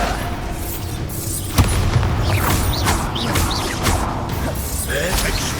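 Bombarda explosion spell cast in Hogwarts Legacy, a sharp boom around mid-clip over dense, continuous game combat noise with whooshes and clatter, surrounded by other spell impacts.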